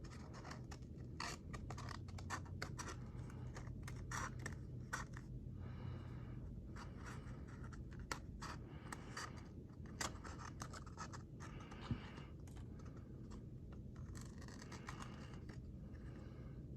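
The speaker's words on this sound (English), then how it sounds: "If there's excess on the tube, you can cut it off." Scissors trim excess material off a tube for a homemade scrunchie holder craft, with close, repeated snipping and scratchy scraping over a steady stretch and no talk.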